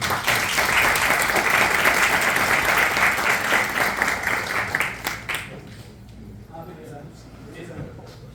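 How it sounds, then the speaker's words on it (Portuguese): Audience applause at a panel event on combating online disinformation, a dense, loud burst of clapping lasting about five seconds before fading away to quiet room tone. "Palmas, pessoal."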